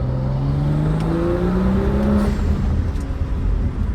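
A BMW F30 with N55 engine and performance intake revs up and drops back in pitch as it blips through a rev-match downshift, steady and fairly loud, with no one talking.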